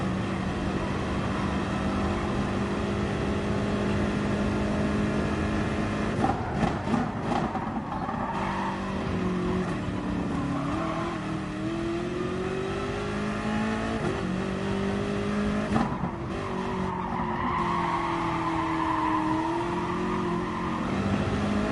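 A BMW race car in a sim racing game drives laps, its engine droning steadily and rising and falling in pitch through gear changes and corners, a continuous loud roar throughout.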